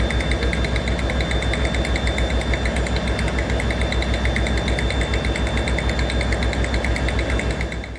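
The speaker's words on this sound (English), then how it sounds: "Many of the diesel engines are turning over in order to make my point" Diesel locomotive engines idle in a steady, loud, continuous drone with a throbbing low rumble and a rapid mechanical chatter, unbroken throughout.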